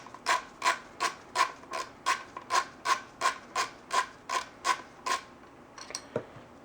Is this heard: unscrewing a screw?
yes